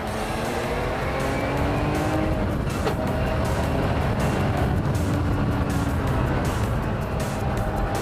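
A race car runs hard around a circuit with a loud, continuous engine roar close by, shifting gears and braking into a corner. The sound is steady and dense throughout, and no one speaks.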